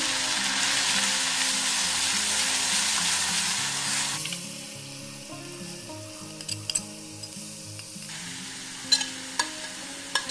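Grated amla hits hot spice tempering with a loud, dense sizzle that drops sharply midway to a quieter crackle, then rises again, with a few light clicks of a spoon against the pan in the later part.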